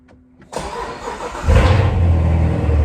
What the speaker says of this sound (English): We get a pretty good cold start.